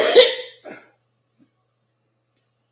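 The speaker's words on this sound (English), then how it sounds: "I know how loud that coughing is" A single loud, harsh cough close to the microphone, followed by a shorter, fainter second cough, then near silence with a faint click at the end.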